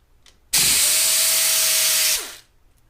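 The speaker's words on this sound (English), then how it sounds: "this air ratchet is the shit" An air ratchet on a CAT engine's air compressor runs in a single loud, close burst of about one and a half seconds, a steady high pneumatic whir that starts abruptly and winds down at the end.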